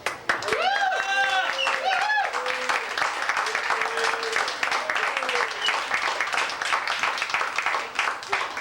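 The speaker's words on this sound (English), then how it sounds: "we give a great round of applause for our feature tonight, Adnan Onart." An audience at a poetry reading breaks into sustained clapping and cheering, dense and steady, with a voice briefly heard at the start before the applause takes over.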